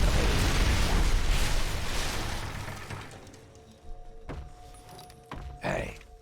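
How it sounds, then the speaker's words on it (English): A loud, rumbling explosion from Fallout 3 played through the Tale of Two Wastelands mod in the Point Lookout area booms at the start, then decays into clattering debris and scattered game sounds. "It looks like an explosion."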